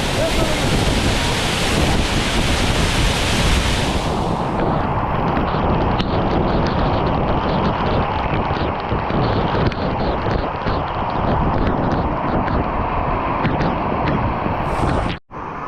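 A forceful waterfall pours down nearby, producing a loud, constant roar with wind buffeting the microphone and spray-like hiss that softens slightly after the first few seconds.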